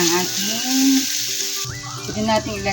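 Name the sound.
sautéed onions sizzling, marinated pork added to pan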